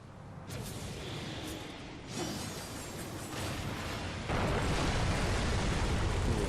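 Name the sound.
pillars blowing up, ceiling caving in, Darksiders video game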